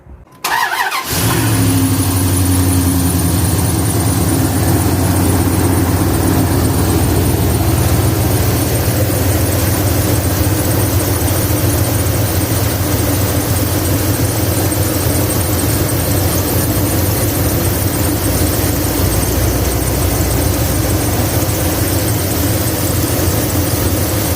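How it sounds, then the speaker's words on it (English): A pickup truck's engine, after head gasket sealer treatment, cranks and catches with a brief squeal, then settles into a loud, steady close-up idle that runs on alone for over twenty seconds. "So I'm gonna start the truck."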